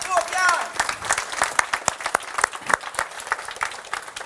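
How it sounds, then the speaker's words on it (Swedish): Brief applause at a cooking competition semifinal, scattered sharp claps from a small audience after a short voice at the start, fairly faint and uneven. "En peppande applåd tycker jag för Håkan."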